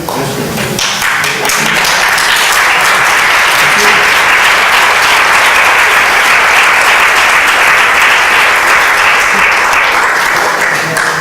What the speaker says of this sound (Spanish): ya contenta con los aplausos